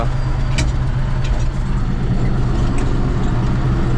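A T-150 tractor ploughing a field, its engine a loud, steady, close drone that holds unbroken throughout.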